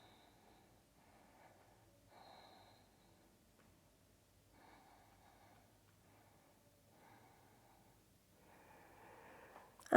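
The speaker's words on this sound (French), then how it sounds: "Huit cycles de respiration Ujjayi dans cette posture." Slow Ujjayi breathing during a yoga posture: soft, breathy inhales and exhales repeat every couple of seconds, faint and close, with no talking.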